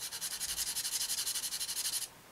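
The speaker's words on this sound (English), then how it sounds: "I'm still in the process of sanding it down" Quick, rhythmic back-and-forth rasp of sandpaper on a small plastic part of a 1/48 Brewster Buffalo model kit, about twenty even strokes, close and fairly quiet, then stopping.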